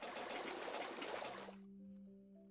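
Water being collected in the Minecraft ATM10 modpack gives a brief, soft splashing trickle that stops abruptly, followed by quiet sustained background tones.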